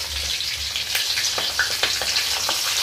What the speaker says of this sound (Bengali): আচ্ছা, তরকারি মাছ ভাজা হয়েছে